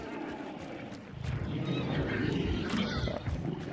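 A horse moving close by, with snorting, shuffling and clopping sounds rising partway through and staying loud to the end, while people talk in the background.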